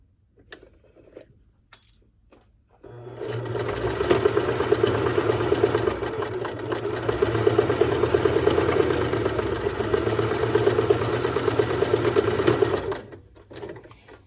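Sewing machine stitching a plain seam with a 5/8-inch seam allowance, running steadily for about ten seconds after a few faint handling clicks, close and loud with no talk.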